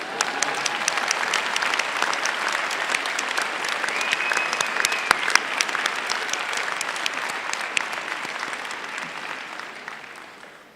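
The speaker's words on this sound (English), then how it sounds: "You can clap." At a university nursing commencement ceremony, a large audience breaks into sustained applause, dense and steady, fading slightly toward the end.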